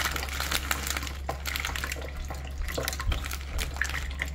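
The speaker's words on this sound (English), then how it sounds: "The water's draining out." Water runs and drips out of a stabbed bag of shredded coleslaw vegetables, a steady close trickling with scattered drips over a low constant hum.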